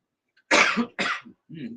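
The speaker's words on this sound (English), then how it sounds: "Nice big cough right at the beginning." A single loud cough bursts out, followed by a second shorter cough and a couple of low throat-clearing grunts, close and alone.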